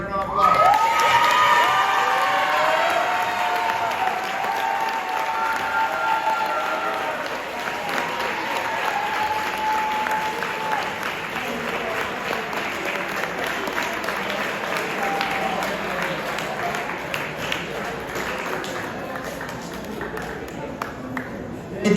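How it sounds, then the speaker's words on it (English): Sustained applause from a sizable crowd at a school sports banquet, with scattered cheers and shouts, steady for about twenty seconds with a whistle-like tone early on. "Give him a round of applause."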